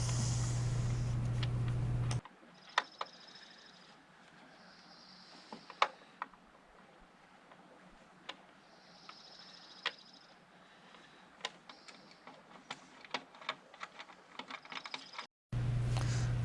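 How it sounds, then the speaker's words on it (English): Intake bolts being spun out with a socket extension on a 2007 Nissan Versa, giving a run of quick, light metallic clicks and ratcheting ticks at close range against a quiet background, with no talking. "just use the extension, spin it to get the bolts out"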